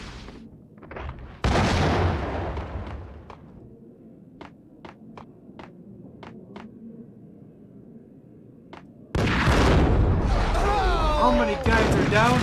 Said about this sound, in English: Yep, that's a grenade.